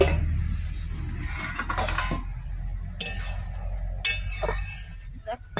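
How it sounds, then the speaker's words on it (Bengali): A metal lid lifted off a cooking pot of boiling potatoes in a home kitchen, with sharp clinks and clatters of metal against metal, a few distinct knocks near the end, and someone talking in between. "ঢাকনাটা খুলবো।"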